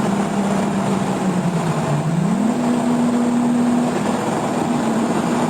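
Turbocharged street car with a 67mm turbo, cams and 850cc injectors pulling hard on low boost, a loud engine drone rising steadily in pitch under continuous road and wind noise.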